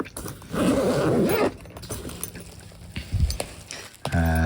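A zipper pulled open on a motorcycle luggage pocket, one long close rasping pull followed by handling rustles and a short second zip near the end.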